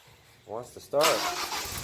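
A Honda buggy engine running on old, stale fuel tries to start: two short cranking bursts, then a rough, loud broadband roar that holds to the end, with voice-like sounds mixed in.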